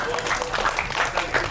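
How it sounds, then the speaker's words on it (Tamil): Live audience at a Tamil film success celebration for Vadakkupatti Ramasamy bursts into sustained applause, a steady wash of many hands clapping on stage-hall acoustics, loud and continuous throughout. "தயவு செஞ்சு நீங்களே ஒரு தடவை கை தட்டிடுங்க"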